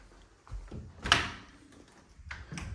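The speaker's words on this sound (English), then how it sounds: "nice sturdy closet doors here" Sturdy closet doors with dark lever hardware being handled in a single-level home, giving a few soft knocks and one sharper thud midway, close and moderately loud in a quiet room with no talk.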